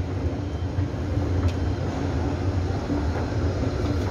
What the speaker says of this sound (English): On the top is the train, air train.